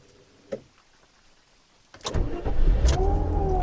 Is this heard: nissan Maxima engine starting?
yes